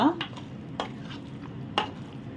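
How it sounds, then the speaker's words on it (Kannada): Mutton frying in ghee for a Mangalorean-style mutton curry, a soft sizzle broken by three sharp scraping stirs of a spoon against the pan. "ತುಪ್ಪದಲ್ಲಿ ಚೆನ್ನಾಗಿ ಫ್ರೈ ಆಗ್ತಾ ಇರಬೇಕಿದು ಮಾಂಸ"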